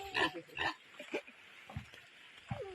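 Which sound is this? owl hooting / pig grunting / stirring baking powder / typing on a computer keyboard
pig grunting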